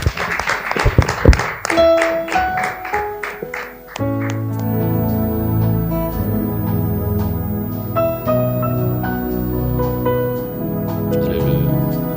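Audience applause for a gospel singer at a church worship event, a burst of scattered clapping over the opening seconds before music with sustained tones takes over.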